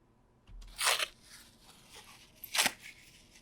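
Two sharp, close tearing bursts, likely paper or similar material, rip out against a quiet background, with faint rustles in between.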